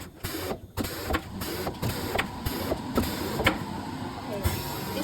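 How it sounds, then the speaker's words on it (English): A grooving machine runs nearby with a whirring mechanical drone broken by repeated sharp hissing bursts at irregular intervals, while a person talks over it. "today I will try to operate this machine for grooving"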